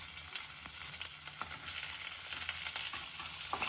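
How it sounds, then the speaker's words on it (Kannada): Large chopped onions sizzle in hot oil with ajwain and a bay leaf for tomato bath, a close, continuous crackling fry with small pops throughout. "ಈರುಳ್ಳಿ ಹಾಕ್ತಾ ಇದ್ದೀನಿ, ದೊಡ್ಡದಾಗಿ ಹೆಚ್ಚಕೊಂಡಿರೋ ಅಂತ ಈರುಳ್ಳಿ."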